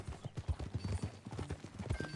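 Horse hooves clip-clop at a steady walking rhythm in Red Dead Redemption 2, fairly close and moderately soft, with an occasional faint snort and no speech.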